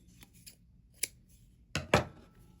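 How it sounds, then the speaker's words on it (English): Scissors snip through crochet yarn on a finished granny square: a few faint light clicks, then two sharp close cuts in quick succession near the end, with no talking. "Let's go ahead and snip this off."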